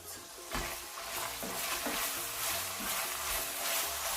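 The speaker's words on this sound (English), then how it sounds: "keep turning, turn, stir the pot" Vegetables sizzle and fry in a pot while being stirred, a continuous close hiss with repeated soft scraping strokes of the spoon, no voices.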